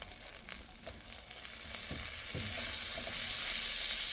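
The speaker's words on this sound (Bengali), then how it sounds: "এখন আমি দিয়ে দেবো আদা কুচি আর রসুন কুচি। এটা একটু ভেজে নেব" Chopped ginger and garlic fry in a pan with a steady, soft sizzle that grows slightly louder and hissier toward the end, with a couple of faint utensil taps and no talk.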